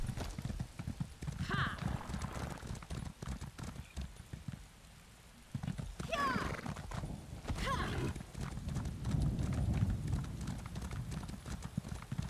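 A horse in the video game The Elder Scrolls Online clip-clops steadily along, its rhythmic hoofbeats running through most of the stretch over game ambience, with a brief lull midway.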